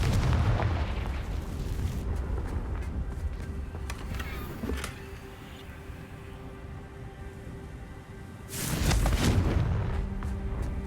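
A Confringo fire spell bursts in Hogwarts Legacy near a crumbling tower, with loud booming blasts at the start and again near the end, separated by a quieter rumbling stretch.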